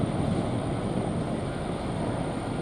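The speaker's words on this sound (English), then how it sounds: "See one airplane already on the runway. Looks like it's going to get ready to take off." A small private airplane at a small airport idles or runs up on the runway, its engine a steady low rumbling drone throughout the short stretch.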